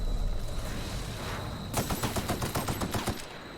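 Rapid automatic gunfire from a weapon in the video game The Outer Worlds bursts in midway as a dense, fast string of sharp shots after a quieter stretch of game ambience, with no talking over it.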